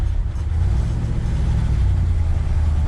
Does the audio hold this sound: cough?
no